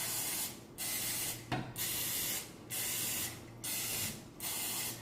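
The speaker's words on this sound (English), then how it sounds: "spray out the squares." Several short bursts of cooking spray hiss in an uneven rhythm, close by, with brief pauses between each spritz, coating the squares of a baking pan.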